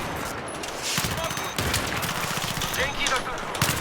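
Automatic fire from a PP-19 and an AEK rifle rattles through a Battlefield 3 match, with rapid shots and loud bursts while someone talks over the action.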